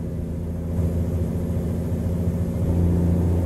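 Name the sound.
truck engine in a video game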